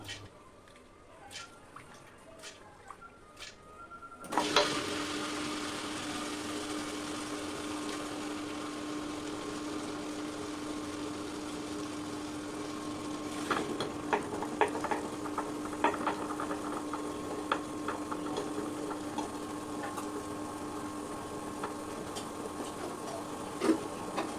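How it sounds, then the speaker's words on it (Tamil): A wet grinder churns soaked urad dal into idli batter, starting abruptly after a few quiet seconds and then running as a steady, moderate whir with faint scraping and clicking layered on top. "இப்போ ஊற வச்ச உளுந்தை கிரைண்டரில் போட்டு ஆட்டிக்கலாம்."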